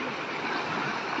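Flood water rushes down the Dhaleswar river coming from Mizoram, a steady, loud broadband roar of fast-flowing current with no pauses, heard alone.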